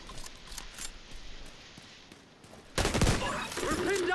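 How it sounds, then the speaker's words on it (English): Video game turrets fire at the player near a main gate: a run of rapid, quiet gunfire bursts, then a louder, denser barrage of shots with a voice coming through toward the end. "We're pinned down by turrets at the main gate!"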